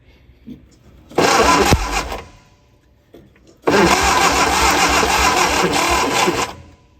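A 1958-era style Austin-Healey Sprite barn find being cranked over by its starter with ignition points just repaired: two loud, steady whirring bursts, a short one and then a longer one of about three seconds, without catching, separated by a quiet pause.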